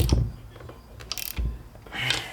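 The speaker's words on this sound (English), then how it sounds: "Love these ratchet wrenches." Ratchet wrench clicking on the master cylinder bolts being fitted to the brake booster of a 1988 Jeep Cherokee XJ, with short bursts of close mechanical clicks and a few knocks, no voices.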